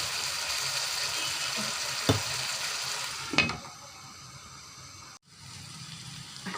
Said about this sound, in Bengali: ঢাকনা তুলে নিলাম, এখন এটাকে আমি নেড়ে ছেড়ে নেব।